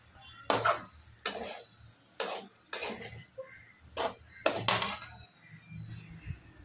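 Cluster bean thecha with coriander stir-fried in a pan for a Maharashtrian recipe: six sharp, separate scrapes and clinks of a spatula against the pan, fairly close, over faint background noise with no talking.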